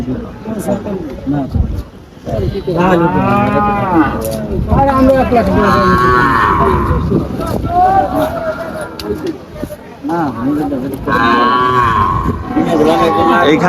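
Cattle at a livestock market in Faridpur low and moo amid a steady hubbub of nearby talking, the calls rising now and then over the busy crowd noise.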